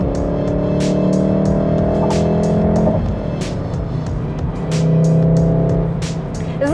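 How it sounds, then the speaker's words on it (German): A manual-gearbox VW Golf R accelerates hard, its loud engine rising in pitch through the revs, dropping at a gear change, then climbing again, heard close up without talk. "Also für einen Golf muss man schon sagen, hat ja schon einen ordentlichen Sound, ist schon ordentlich laut."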